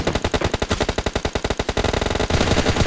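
Rapid automatic gunfire in the PUBG Mobile battle game, a loud, close, fast burst of evenly spaced shots running about two seconds before blurring into a denser rattle.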